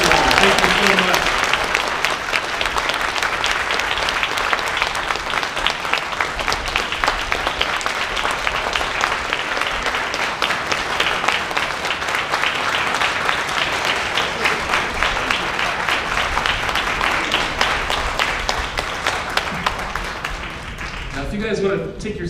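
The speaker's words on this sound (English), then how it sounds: "if we could give a big round of applause" A festival audience gives sustained, dense applause to close a panel at a film festival's closing night, a loud, even roar of many hands clapping that lasts throughout and tapers slightly at the end.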